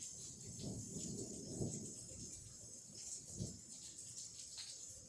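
Low rolling thunder from a slow-moving storm, soft distant rumbles swelling a few times over a steady hiss of rain.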